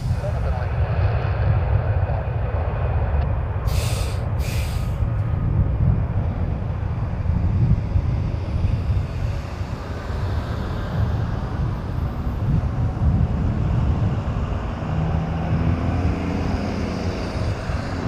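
An airplane taking off at Toronto Pearson Airport in gusty wind, a steady, heavy engine roar with wind buffeting the microphone and brief sharp clicks near the start.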